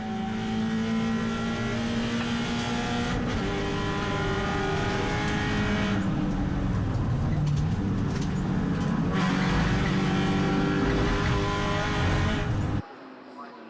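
Race cars at an NZ Endurance Championship one-hour event restart after a safety car period, their engines roaring loudly and continuously as they accelerate together, with a commentator's voice running underneath before the sound cuts off abruptly.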